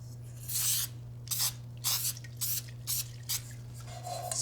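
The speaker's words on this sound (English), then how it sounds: "Then we'll put in some spray to make sure it stays in place on the bottom." Several short hissing bursts of cooking spray onto a cake baking pan, close and fairly loud, in an irregular rhythm over a steady low electrical hum.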